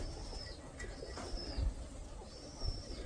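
Pigeons flocking outdoors: soft low cooing with faint wing flutters and a few brief higher tones, fairly distant and quiet, without talking.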